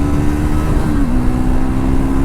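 A Triumph Scrambler 400X motorcycle engine revs hard near the red line, a loud, continuous mid-pitched drone holding steady with a slight dip in pitch partway through.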